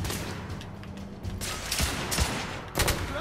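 Gunfire in the video game The Order: 1886, a dense fusillade of shots and bursts against steady game noise, with sharper loud cracks near the middle and the end.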